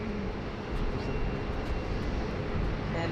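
A Jetstar airliner on a 10-hour flight from Honolulu touches down at Sydney Airport, heard as a steady broad roar of jet engines and rushing air, continuous and fairly distant.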